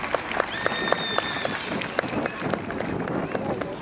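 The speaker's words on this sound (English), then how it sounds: "give him a cheer" Crowd applause and cheering for a young South Wales Mounted Police horse at a Welsh ponies and cobs festival, a steady outdoor wash of clapping with scattered sharper claps, carried on loudly throughout.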